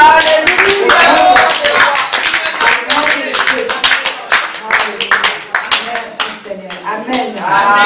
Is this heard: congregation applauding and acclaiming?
yes